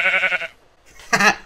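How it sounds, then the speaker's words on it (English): Sheep bleating in the Minecraft video game, two short nasal bleats separated by a brief pause, close and clear with nothing else around them. "There's a sheep over here."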